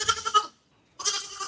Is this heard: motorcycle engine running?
no